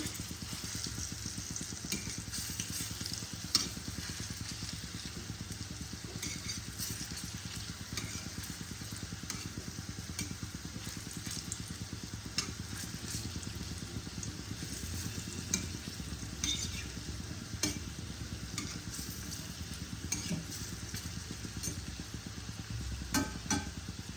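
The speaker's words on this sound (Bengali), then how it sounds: "এই দেখো, আমি একে একে বড়াগুলো ভেজে তুলে নিচ্ছি।" Banana blossom fritters fry in hot oil with a constant soft sizzle and crackle, joined now and then by light clinks of a utensil against the pan. The sound is quiet and steady throughout.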